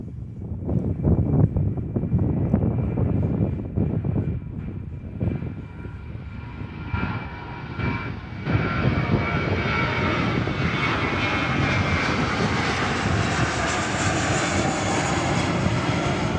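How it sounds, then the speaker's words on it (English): An airplane departs from the runway at Gold Coast Airport, its jet engines building into a loud, sustained roar that swells and broadens as it accelerates away, with some wind buffeting the microphone. "We'll pan to the one that is currently still on the runway and departing."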